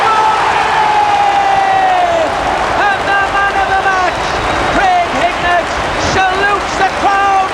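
A big football stadium crowd roars for Hignett's goal at a Middlesbrough home match against Reading in the 1997/98 season, a dense sustained cheer with whistles and shouts, loud and continuous throughout.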